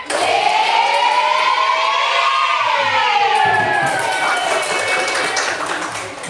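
Classroom children do the 'tepuk ganteng' clapping pattern. A loud, sustained chorus of young voices chants over light, quick clapping throughout.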